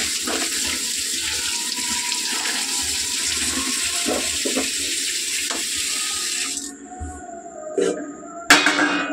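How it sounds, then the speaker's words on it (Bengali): A tap runs steadily while potatoes are washed under it. After about six seconds the flow stops, leaving a few wet knocks and a sharp clatter. "আমি আলুগুলো একটু ধুয়ে নিচ্ছি।"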